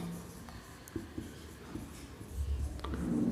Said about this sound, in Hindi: तो चलिए हम लोग लिख देते हैं यहाँ पे लिखेंगे